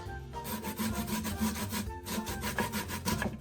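Raw cassava is grated by hand on a grater in rhythmic, repeated rasping strokes, each scrape close and distinct, with brief pauses between runs and no voices.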